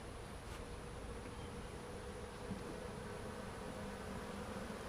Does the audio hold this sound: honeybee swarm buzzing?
yes